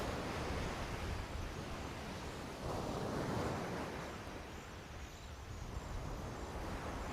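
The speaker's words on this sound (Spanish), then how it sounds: "podía oírse como una música de fondo, el ruido constante y acompasado del oleaje" Ocean surf rolls in a constant, rhythmic wash of broadband noise, with slow swells of louder breaking waves and no voices over it.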